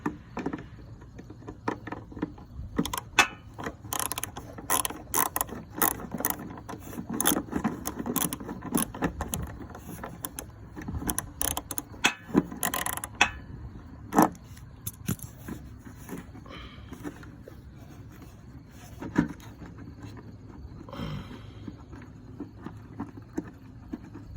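Wrench fitted with an extension working a car bolt loose: a busy run of metallic clicks, clanks and ratcheting knocks, close and fairly loud, with scrapes and short pauses between bursts.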